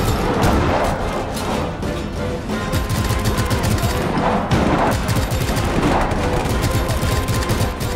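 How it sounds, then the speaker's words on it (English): Gunfire and a grenade explosion in the video game Just Cause 3, heard as a constant, loud barrage of rapid shots and booming blasts layered together with no pause. "Have a grenade."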